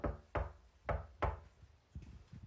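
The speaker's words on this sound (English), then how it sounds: "So I ring the doorbell and then I knock." Knocks on a front door by a door-to-door salesman: several sharp, loud raps in an uneven rhythm, followed by a few softer taps.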